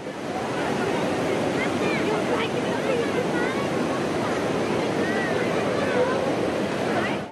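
Floodwater after heavy rain surging through a town, a dense continuous roar of rushing water, loud and steady throughout with a faint murmur of voices.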